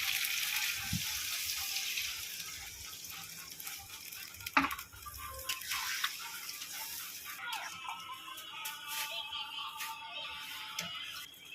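Packaged milk is poured into a pan of browned potatoes for Kashmiri-style aloo dum, bringing a steady close hiss and sizzle with liquid splashing and a sharp utensil knock partway through.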